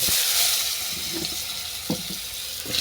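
Potatoes hiss as they go into a reduced amount of hot frying oil for a Bengali fish and dal curry. The broad sizzle is steady, with a few soft clinks and stirring knocks.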